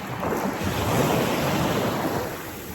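Calm sea with gentle waves on a day of murky water, heard as a steady broadband wash of surf mixed with wind noise on the microphone, swelling slightly in the middle and fading toward the end.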